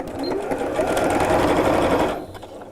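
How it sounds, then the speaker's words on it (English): A sewing machine stitches straight across a quilted tote, a steady, continuous whirring drone running close and loud for most of the stretch before cutting off near the end. "I'm going to sew straight across"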